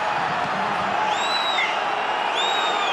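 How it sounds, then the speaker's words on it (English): A rugby stadium crowd at a European quarter-final, Perpignan against Toulouse, roars in a dense continuous wash of noise reacting to a contentious call, with a couple of shrill whistles rising above it. "You can hear how the crowd are reacting"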